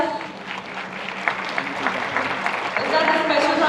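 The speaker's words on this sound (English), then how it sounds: "Is that a special round of applause for the students?" Applause from the audience at a management education convention inauguration, a steady patter of many hands clapping that swells slightly toward the end, with a voice speaking over it.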